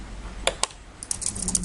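Quick keystrokes on a computer keyboard while placing a ground symbol in Eagle PCB layout software: two separate clacks, then a faster run of close, clear taps.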